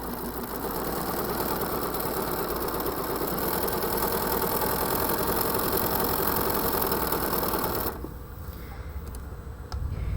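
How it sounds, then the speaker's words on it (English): A home sewing machine stitching a quarter-inch seam, producing a steady, even motor hum with rapid needle chatter that runs continuously at close range before dropping to a quieter whir near the end. "Okay, I'm just gonna sew down my 1/4 inch."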